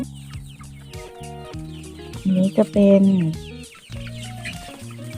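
Young chickens, including a two-month-old cockerel, cluck close by in short, repeated bursts, and someone speaks briefly over them.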